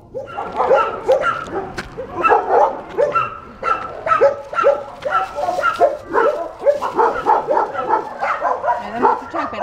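A Leonberger dog barks repeatedly in short, excited bursts with some yips and whines mixed in, close and fairly loud, continuing throughout.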